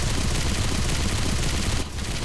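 Continuous rapid machine gun fire in a World War-style shooter battle around a bunker and trench in fog and snow, loud and dense throughout with a brief dip near the end.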